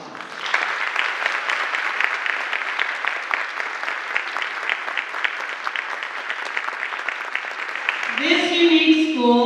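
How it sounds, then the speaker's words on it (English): An audience at a school ribbon cutting ceremony applauds steadily for several seconds, a dense, loud crowd clap that fades into a voice speaking at the end. "And I think that deserves a big round of applause."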